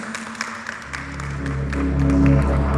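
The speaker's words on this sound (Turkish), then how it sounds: "Kaymak'ın global marka danışmanı Sayın Lian Beraha geliyor alkışlarınızla" Audience at a food business summit applauding as a speaker is welcomed, scattered claps swelling into fuller applause with a low music tone underneath.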